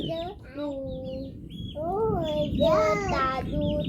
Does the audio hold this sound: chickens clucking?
yes